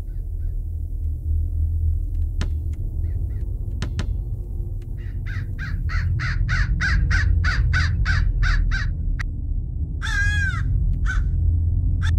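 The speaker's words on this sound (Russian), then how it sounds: "Птица громко орет." A bird in the Hello Neighbor Alpha 2 video game caws loudly in a rapid run of about a dozen harsh calls over a steady low rumble, followed by a single longer cry.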